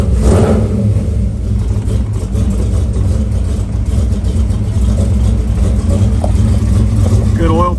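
A 1933 Ford Roadster engine cold starting and running, a loud, steady low rumble with light revving that persists throughout while someone talks over it.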